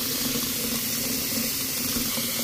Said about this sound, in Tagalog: nilalagyan ko na ng tubig